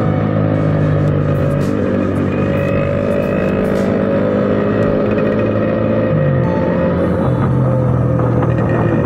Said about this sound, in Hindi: ये जा रही यामाहा आरएक्स। भाई इसकी आवाज़ 100 cc में ऐसी आवाज़